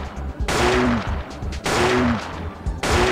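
Gunfire in the survival-horror video game Parasite Eve 2, with two long sustained bursts of rapid shots, loud and close, and a short third burst starting at the end, while enemies take many hits.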